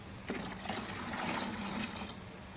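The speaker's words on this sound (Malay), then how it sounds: "isikan baldi dengan 9 liter air" Tap water gushes steadily into a bucket being filled with several liters for homemade soap, a continuous close rushing splash with no voices.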